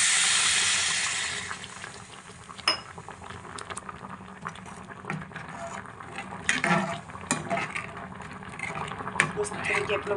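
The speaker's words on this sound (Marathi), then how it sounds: "पाणी टाकून घेऊया." Water is poured into a pan holding a ground spice paste for a sev curry, starting with a brief loud splashing hiss that quickly settles into softer bubbling, with occasional utensil clinks.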